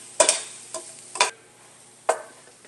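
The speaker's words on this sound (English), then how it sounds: "So let's get this all mixed nice and evenly." A stuffing mixture with walnuts for acorn squash is stirred in a bowl, giving four short scraping, clattering strokes spaced apart, fairly close with quiet gaps between them.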